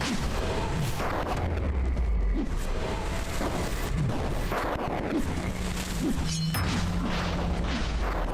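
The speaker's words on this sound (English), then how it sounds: "I really hate the periodic exploding" Periodic explosions and crashing blasts in the retro PSX-style souls-like game Memoirium, booming repeatedly over a dense, rumbling, chaotic game soundscape with constant low-end energy.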